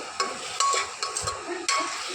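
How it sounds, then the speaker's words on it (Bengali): Chicken stirring and frying in a pan, with scraping strokes and a light sizzle, a few distinct stir bursts over a steady crackle, fairly close. "এটা আমাকে নাড়াচাড়া করে দেবো ভাজা ভাজা পর্যন্ত।"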